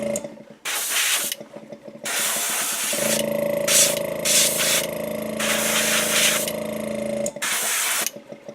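White base coat sprayed from an airbrush onto a lipless crankbait lure: bursts of close, steady airy hiss, with a long middle stretch carrying a droning compressor-like hum beneath the spray.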